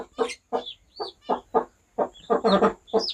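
A crested hen clucks among her chicks on a farm, giving a quick series of short, close clucks in an uneven rhythm with no pauses for speech.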